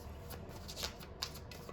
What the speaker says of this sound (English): I'm just gonna shuffle and let's just see what the bottom of the deck energy is